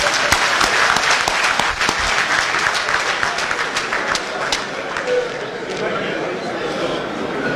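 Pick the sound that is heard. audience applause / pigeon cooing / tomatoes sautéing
audience applause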